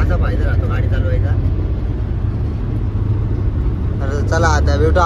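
A car drives along a good road with a steady low engine and tyre rumble throughout, voices talking over it and a brief louder burst near the end.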